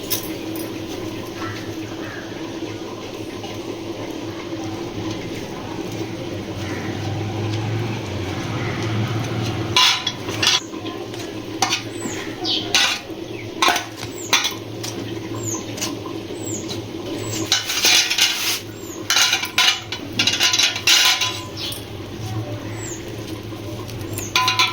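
A knife chops boiled eggs into small pieces on a cutting board, giving quick irregular taps and clicks in bursts, close by, over a steady low background hum.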